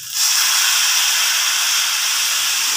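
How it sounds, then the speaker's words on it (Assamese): Hot water hits a hot pan of cooking okra masala, setting off a sudden loud sizzling hiss that holds steady and close, slowly easing toward the end. "গৰম পানী দিছোঁ মই অকণমান বস্তুটো সিদ্ধ হ'বলৈ।"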